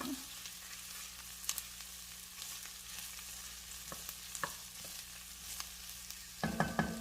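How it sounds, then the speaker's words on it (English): Tomato paste browns in a pot for homemade tomato soup, giving a steady, moderate sizzle with scattered light taps of a utensil against the pot, and no voices. "We are going to let this cook until the tomato paste turns brown."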